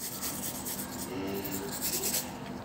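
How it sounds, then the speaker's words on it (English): A DVD disc scratched against a wall gives rough, rasping scrapes in uneven strokes, close and fairly loud, with brief gaps between passes. "I gotta scratch this on the wall"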